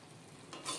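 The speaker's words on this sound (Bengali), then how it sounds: "ঘিটাকে এবারে নেড়েচেড়ে নিয়ে মিশিয়ে নিচ্ছি" Ghee is stirred into a simmering moong dal and banana-stem (thor) gravy, giving a brief, soft swish of the spoon that swells into gentle bubbling near the end.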